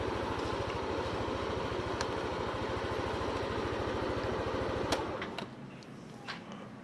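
A used motorcycle at a motorcycle auction in Bandung idles smoothly with an even, rapid putter, close and steady, then falls quiet after about five seconds, leaving a few light clicks and handling noises.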